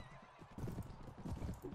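A horse in the game Mount & Blade: Warband whinnies after being struck, a loud, close, wavering neigh that repeats in quick bursts over a busy low background, with no talking.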